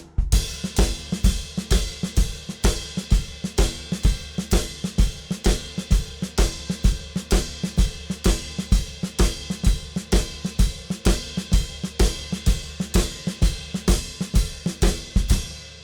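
Drum kit plays a Texas shuffle groove on hi-hat, bass drum and snare, with sharp evenly spaced backbeat hits and a bouncing swung pulse, close and continuous with no voices.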